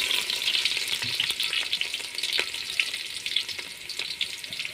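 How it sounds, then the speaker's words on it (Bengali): Onion frying in oil in a pot before rice goes in for chicken biryani, a dense, continuous crackling sizzle heard up close with faint stirring rattles and no talk. "তেল দিয়ে দেবো পাতিলে, সামান্য পেঁয়াজ দিব"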